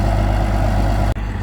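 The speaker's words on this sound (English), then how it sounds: "That's a tough old tractor" Low, steady rumble of an old 1979-model tractor engine idling close by during a pecan harvest, with a brief dropout near the end before it resumes.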